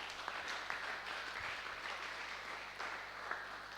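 A church congregation applauds during a French-language worship service, a steady wash of many hands clapping at moderate distance, continuous for several seconds with no voices standing out.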